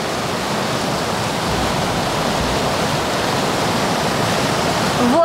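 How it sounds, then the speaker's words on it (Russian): A Vietnamese waterfall rushes in a loud, steady broadband roar of falling water, close and continuous without pause, with no voices over it. "Вот она, вода из водопада вьетнамского."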